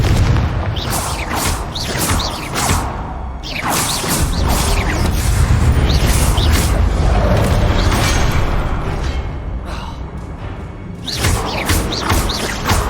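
Spell blasts from a Confringo curse in Hogwarts Legacy on Xbox One, a dense run of loud booms and crashing thuds over constant game rumble, with creaking mechanism noises between the impacts.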